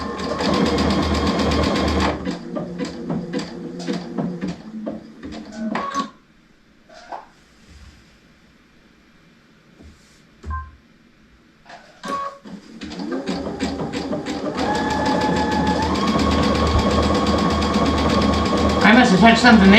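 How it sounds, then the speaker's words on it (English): A sewing machine stitching curlicue loops, its fast, loud mechanical whirr running steadily, pausing for several seconds while the machine stops, then resuming in long continuous runs. "Why are you only sewing 2 curlicues and then stopping?"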